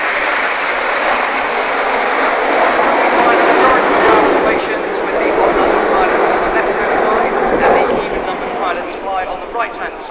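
An Avro Vulcan bomber flies past low and level at the Eastbourne airshow, a loud, continuous jet roar that holds for the whole stretch while an announcer speaks over it.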